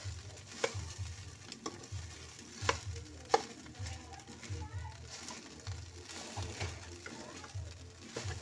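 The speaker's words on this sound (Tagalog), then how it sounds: "Lagyan ko lang to guys yung sibuyas at bawang." Onion and garlic sautéing in a pan at home lunchtime cooking, a steady soft sizzle with occasional stirring scrapes and clinks, while a voice talks intermittently over it.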